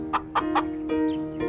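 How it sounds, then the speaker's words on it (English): Close-up chicken clucks, a few quick repeated notes followed by a drawn-out, nasal cluck. "chickens,"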